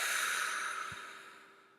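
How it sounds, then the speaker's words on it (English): A single soft, breathy exhale through the mouth during a breathing exercise, a close airy hiss that slowly fades away. "In through your nose, out through your mouth."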